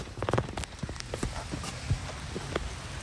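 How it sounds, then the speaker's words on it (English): Light rain pattering outdoors, a steady soft hiss with scattered drips and taps close by, occasional louder drops, no talking. "y'all can see it's raining out here a little bit"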